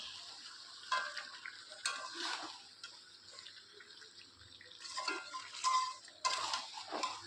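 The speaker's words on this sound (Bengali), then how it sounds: "এখানে মাংসটা কষাচ্ছি" Meat being stir-fried (kosha) in a pan, with a steady hiss under repeated scraping and stirring strokes that rise and fall throughout, close and moderately loud, with no talking.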